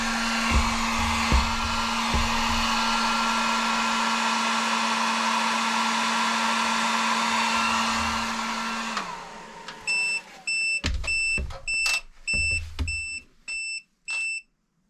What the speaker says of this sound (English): Now here comes the old heat gun